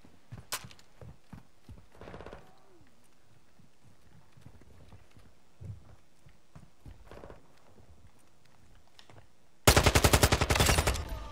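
Automatic gunfire in the Call of Duty: Modern Warfare II multiplayer video game: quiet scattered footsteps and small clatters, then a sudden loud, rapid burst of shots close by for the last couple of seconds.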